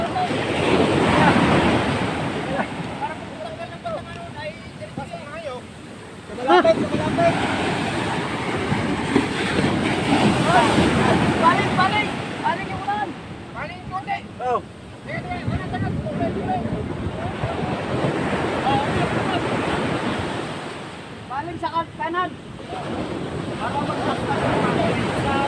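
Large ocean waves surge and wash around boats near the shore, a broad continuous roar of surf rising and falling over about twenty-five seconds, with wind and scattered voices calling out over the water.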